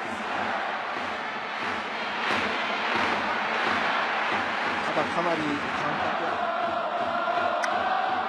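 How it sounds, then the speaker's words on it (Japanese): Fans in the left-field stands at a professional baseball game roar steadily after a close safe call at a base, a broad, sustained crowd noise that runs under continuous play-by-play commentary. "レフトスタンドから大歓声"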